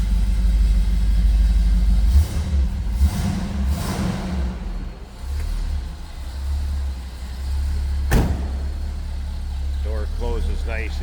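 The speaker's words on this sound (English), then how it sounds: "Door closes nicely" A single solid thunk as the door of a 1969 Pontiac Trans Am with a 400 V8 swings shut, heard over the low rumble of the idling engine.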